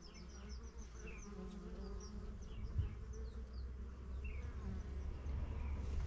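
Steady buzzing of honeybees at the reduced entrance of a small, recently divided colony, a continuous close drone with individual bees whizzing past.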